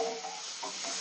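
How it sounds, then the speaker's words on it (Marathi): Fish curry with ginger-garlic paste frying in a pan while being stirred, a steady close sizzle with soft scraping strokes of the spoon, no voices. "हलवून घ्यायचंय"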